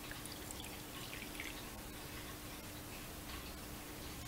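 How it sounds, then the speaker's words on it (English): Liquid alcohol trickles into a small camping stove, a faint, steady light pour with soft drips in a quiet setting, continuous for a few seconds. "I'm going to pour it in the stove."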